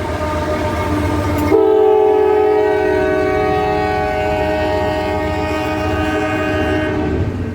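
A loud train rolls past with a long sustained horn blast, wheels rumbling steadily underneath, close and continuous throughout.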